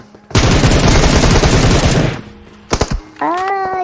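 Dense, loud automatic gunfire from cover fire in the mobile battle royale game PUBG Mobile rattles for about two seconds, followed by a couple of sharp bursts and a tonal game sound.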